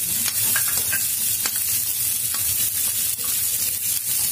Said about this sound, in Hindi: सारी वेजिटेबल डाल देंगे, उनको हल्का फ्राई करेंगे।